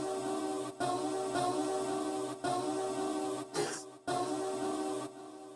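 A looped music sample for a beat remake in Logic, with delay added so it plays as one continuous sound. Sustained tonal layers run steadily and close, with only slight dips where the loop seams fall and no voices.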